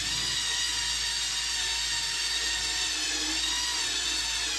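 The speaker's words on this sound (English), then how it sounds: "with the drill going in one direction" A high-pitched power drill spins continuously at a steady speed while scrubbing rust stains from a shower or tub, close and constant, with no voices.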